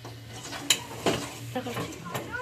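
Chicken fries in a pan while a utensil clinks and scrapes against the metal in irregular knocks and stirs, close, over a low sizzle.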